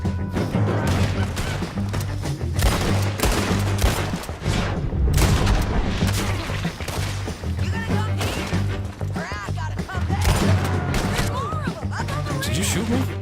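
Dense rapid gunfire fills a Red Dead Redemption II shootout at a bridge, volleys of close and distant shots cracking steadily with a low background rumble, while someone talks over the fighting.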